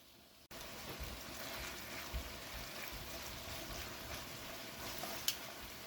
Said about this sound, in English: We're going to saute the lamb with clarified butter for 5 minutes in all sides.